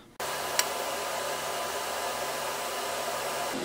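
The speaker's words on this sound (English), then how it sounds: "I start the weld out at 225 amps, and then halfway through I ramp out to probably, I don't know, maybe 180 amps" Steady, loud hiss and buzz from an air-cooled TIG torch welding thick aluminum at roughly 180 to 225 amps. It starts abruptly and holds even for several seconds, with one brief click early on.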